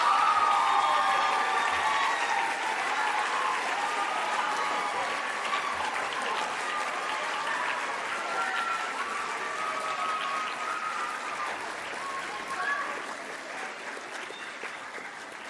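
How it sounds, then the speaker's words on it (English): Parents and audience applaud theater majors at an 8th grade arts school promotion ceremony, a steady, sustained wash of clapping from a large crowd in a hall, holding level throughout with a slight late swell. "please face your parents and the audience for a round of applause"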